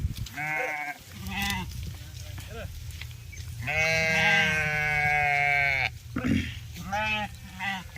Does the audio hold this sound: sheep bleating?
yes